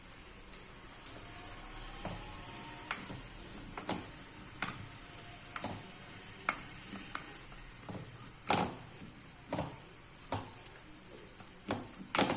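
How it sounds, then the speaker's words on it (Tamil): Soft cooked food being pressed with a masher, giving a series of quiet, regularly spaced taps and squelchy knocks against the pot over a faint steady hiss. "இப்போ இந்த மாதிரி ஒரு ஸ்மாஷர் வச்சு அதை நல்லா அழுத்தி விட்டுறலாம்."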